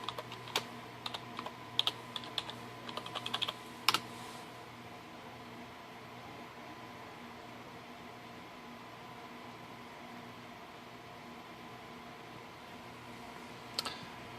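A password is typed on a computer keyboard at a Windows Server 2012 R2 login screen: a quick run of light key clicks over the first four seconds, then a quiet fan hum, then a last pair of clicks near the end.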